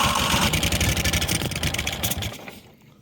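A neglected 1998 Yazoo YTKC22 three-wheel riding mower engine runs loud and close, chugging with a rough, uneven pulse before the revs sag and the engine dies away near the end.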